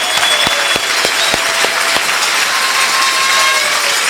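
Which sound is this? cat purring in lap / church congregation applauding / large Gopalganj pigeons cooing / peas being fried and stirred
church congregation applauding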